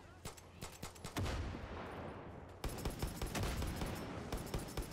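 Rapid bursts of gunfire from the video game Far Cry 6, dense fusillades and machine-gun rattles crowding together, with a brief lull before another loud volley; voices can be heard faintly beneath.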